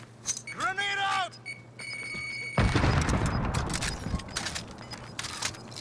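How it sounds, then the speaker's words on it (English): A grenade explodes in the video game Call of Duty: Warzone with a sudden loud burst and a long rumbling, crackling decay. A brief tonal, wavering sound comes just before it. "Grenade out!"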